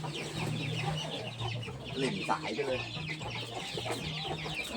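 Farm chickens clucking at feeding time, with a rhythmic rooster-like clucking pattern and busy bird chatter throughout, while someone speaks Thai over the flock.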